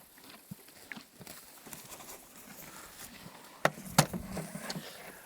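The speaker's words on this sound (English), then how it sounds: "All right, so I use a horse" Horse hooves clip-clopping at a walk on a backcountry trail, a soft, fairly steady plodding with birds chirping faintly in the background.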